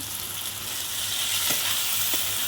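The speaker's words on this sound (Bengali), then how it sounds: "চিংড়ি মাছগুলো ওর মধ্যে দিয়ে কষাবো" Prawns fry with salt, chili powder and turmeric powder, producing a loud, continuous close-up sizzle with a couple of brief stirring scrapes; no talking.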